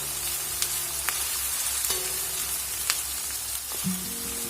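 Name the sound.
onion and garlic frying in a pan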